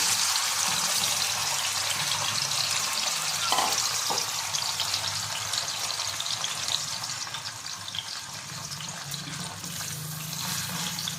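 Chicken balls deep-fry in hot oil, giving a loud, steady bubbling hiss close by with a few brief clinks partway through and no voices.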